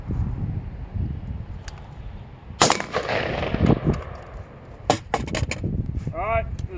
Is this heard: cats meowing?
no